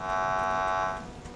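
Alarm in a ship video game blaring over a leak, a loud buzzing electronic tone held steady for about a second before cutting off, leaving faint background noise.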